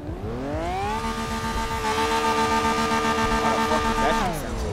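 A car engine in a roleplay video game drones at a steady high pitch, holding a buzzy revving whine that rises slightly before dropping away at the end.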